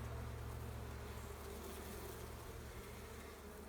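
Honeybees in a spring hive inspection hum in a dense, continuous buzz that stays loud and close throughout, with no voices over it.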